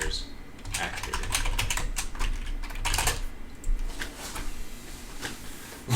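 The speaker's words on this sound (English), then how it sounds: "I don't feel like typing this out again, but fine." Computer keyboard typing in steady, rapid bursts of clicks, fairly close, running throughout with a voice talking over it.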